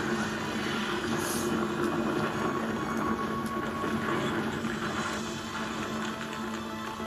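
A train from the Toy Story 3 video game rumbles steadily as it moves during a train chase, a continuous dense rolling noise with faint high clanks, no talking over it.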